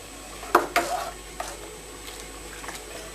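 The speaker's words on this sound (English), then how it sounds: "Then we can give this a stir and get it all" A spoon clacks against the side of a homebrew vessel while stirring a sugar and malt extract solution for beer, two sharp close knocks followed by fainter scraping taps.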